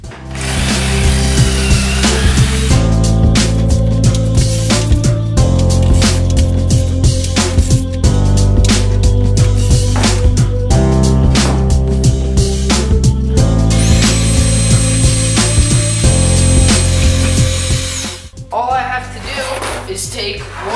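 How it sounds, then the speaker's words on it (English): A power drill drilling holes in wood whirs loudly and steadily for a long stretch over background music, then stops abruptly near the end. "what I need to do is drill out holes on the bottom of this"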